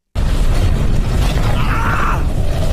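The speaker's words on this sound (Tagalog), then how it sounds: "At pagdating niya sa location ay may naganap na pagsabog." An explosion goes off in an animated story recap, a loud sustained rumbling blast with heavy low-end roar that fills nearly three seconds, swelling slightly midway without any voices over it.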